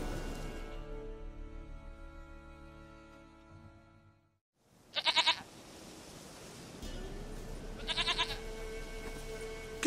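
Goats bleat in The Witcher 3 video game, with two short bright bleats a few seconds apart over a steady background of game music and ambience.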